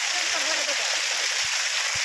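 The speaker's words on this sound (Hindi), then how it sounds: "आप लोग देख सकते हैं अभी पानी पट रहा है" Irrigation water pumped by a motor gushes into a farm field, a loud, steady broadband rush with occasional low thuds underneath.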